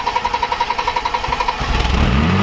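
A BMW E30 engine cranks with rapid rhythmic chugging, then catches and starts, its tone climbing as it revs up close by.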